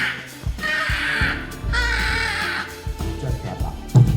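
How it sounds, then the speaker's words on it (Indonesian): Several loud, harsh crow caws sound close by in quick succession, separated by short pauses, with a few thumping bumps around them and no speech. "Burung juga masuk."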